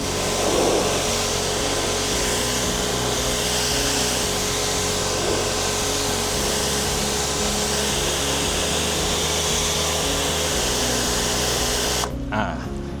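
An L5 Extra high-pressure washer sprays water through the hot coil of a home air conditioner, giving a steady, loud motor drone and hissing spray that runs unbroken for about twelve seconds before cutting off abruptly.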